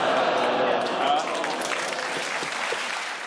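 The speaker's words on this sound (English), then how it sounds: "You send a mixed message when you groan and then clap" A television panel show studio audience gives a short burst of clapping and crowd noise, loud at first and then tapering off over a few seconds.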